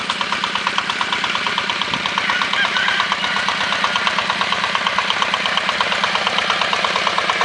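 A walk-behind tractor engine pulls a welded frame harrow across a field, its loud, rapid knocking chug running steady and close throughout with no talk.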